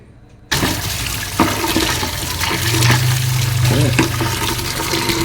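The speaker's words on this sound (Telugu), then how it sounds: "వాటిని అయితే వాష్ చేసేస్తే ఈ లోపు అవి కూడా ఆరుతాయి కదా అని చెప్పేసి వాటర్లో కడిగేసేసి పక్కన పెట్టేస్తున్నాను" Water rushes and splashes steadily as dusty plastic flowers are washed at home, a loud continuous pour with brief clatters and a low gurgle partway through.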